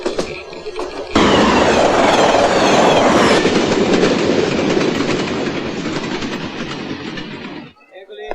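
A train runs along the rails with a loud, steady rumble and clatter that swells in suddenly, holds for several seconds, then drops away; a voice speaks faintly beforehand.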